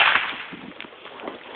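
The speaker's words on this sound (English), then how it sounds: "So I'm going to give him a shot in the air" A gunshot fired into the air during outdoor gun dog training with a griffon opens with one sharp, loud crack, followed by a fading noisy tail and faint outdoor background.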